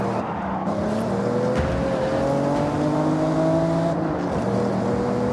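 Car engine roaring steadily in the racing game Forza Horizon 6, with rising and falling revs and a brief dip near the middle, loud and continuous with no talk.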